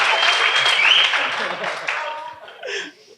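An audience at an interview event breaks into a dense wash of clapping mixed with laughter. It starts loud and thins out toward the end, with voices briefly heard.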